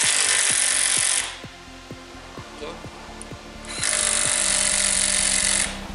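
A power tool rattles in rapid, loud bursts, tightening the caliper bolts on the front brakes of a Jaguar X-Type, with a quieter stretch of sharp impact clicks between the two long bursts.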